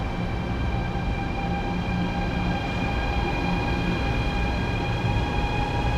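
High-speed train pulling away slowly from a station on the Changsha to Yiwu line, a steady electric whine with sustained tonal hum and rumbling undercarriage noise, constant and fairly close.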